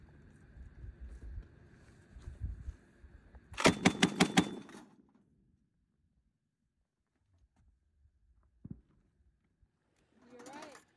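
An MK-19 grenade launcher firing on a range: a rapid burst of about six heavy thumping shots in quick succession, loud and close, preceded by low rumble and followed by a single later thump, with people talking around it.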